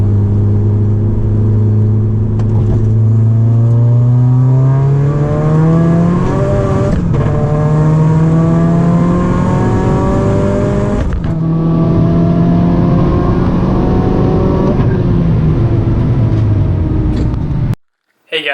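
A big-turbo MK6 Volkswagen GTI accelerates hard through gears, its loud engine note climbing steadily and dipping briefly at each no-lift shift before rising again, ending in a sudden cut.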